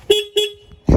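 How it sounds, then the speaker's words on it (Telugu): Horn of a Royal Enfield Classic 350 Bullet, weakened after water got near the engine during washing, giving two short thin beeps like a scooter horn, close and loud, followed by a sharp thump. "బుల్లెట్ హార్న్ కాస్త స్కూటీ హార్న్ అయిపోయింది."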